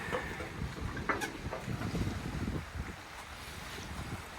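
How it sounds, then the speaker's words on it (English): Steady wind buffets the deck of a Nordhavn N76 motor yacht while its flopper stopper stabilizers are deployed, a broad rushing roar with gusty microphone rumble and faint water wash, no voices. "that's a little windier than I like to do it."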